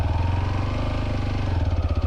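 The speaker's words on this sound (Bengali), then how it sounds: "বাইকের ইঞ্জিন থেকে একটা আওয়াজ আসছে, কাড় করে আওয়াজ আসছে" A motorcycle engine labours at high revs while pulling away in second gear, giving a loud, steady, throbbing drone with a harsh, rattly edge that continues evenly and without speech.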